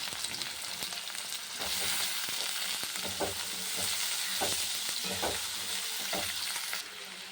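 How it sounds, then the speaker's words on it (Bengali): Potato, onion and vegetables sizzle loudly in hot oil tempered with black cumin, a steady close-up frying hiss broken by repeated stirring scrapes and clicks, with no talking. "কালো জিরাটা ভাজা হয়ে গেছে, সবজিটা দিয়ে দিলাম, পেঁয়াজটা আলু দিয়ে দিলাম"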